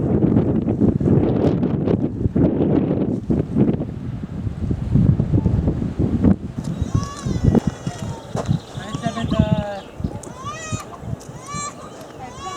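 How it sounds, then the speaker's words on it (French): Strong gusts buffet the microphone on a bare, exposed stretch of a long-distance hiking trail in the Hérault, a loud rumbling roar that eases midway as someone talks over it. "dans le coup c'est dénudé et on est en plein vent."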